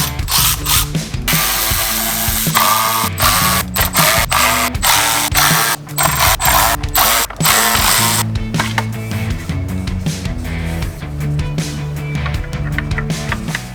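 T10 Torx screws being backed out of Porsche 911 Turbo parts produce a fast, loud ratcheting clatter of rapid clicks, with brief pauses between bursts, close to the work.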